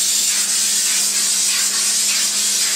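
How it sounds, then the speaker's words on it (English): Olive oil cooking spray hissing steadily onto sliced zucchini and yellow squash for grilling, a loud continuous close-up spray with no pauses. "we're going to just spray all these slices down with our olive oil cooking spray"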